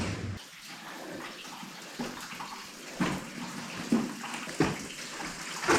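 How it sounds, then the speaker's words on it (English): Water rushes steadily through an underground gold mine tunnel, a continuous wash of flow with occasional faint knocks and splashes at moderate distance. "There's a lot of water coming through."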